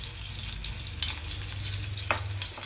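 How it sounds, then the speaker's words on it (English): Oil frying in a pan while an Indian-style egg omelette is cooked, a steady close sizzle with a couple of brief clinks or stirring sounds. "Just spread all the oil into the frying pan."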